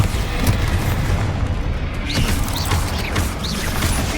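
A Bombarda blasting spell goes off in the Hogwarts Legacy video game, a loud, continuous rumbling boom with crashing debris and brief whooshing swishes over dense game noise.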